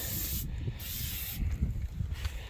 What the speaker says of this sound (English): we're spraying it with Flex Seal